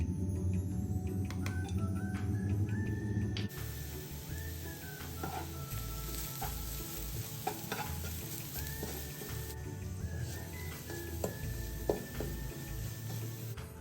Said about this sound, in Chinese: 锅内倒点油，再将1大匙蒜末倒入爆香